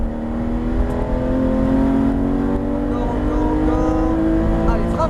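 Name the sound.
Porsche GT3 RS accelerating on a race track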